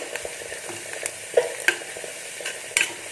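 Onions frying in a pan, a soft steady sizzle close by, broken by a few sharp scrapes and taps as they are stirred, with no talking.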